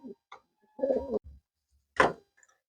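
Tamil Nadu lineage pigeons in a loft give a few soft, close coos, separated by short quiet gaps.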